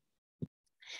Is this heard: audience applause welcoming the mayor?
no